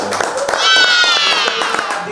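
A crowd claps for student award winners at a youth talent event in East Kalimantan, steady applause mixed with talk and a shrill whistle-like tone rising through the middle.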